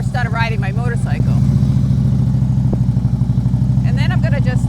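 A motorcycle engine chugs loudly and steadily at low speed with a rhythmic throb as the bike creeps between a trailer and a car, while someone talks over it at the start and end.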